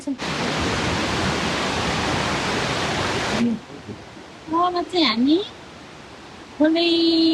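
A mountain stream on the Gosainkunda trek rushes loudly and steadily for about three seconds. The flow then fades into the background while people talk nearby, with a brief burst of louder speech at the end.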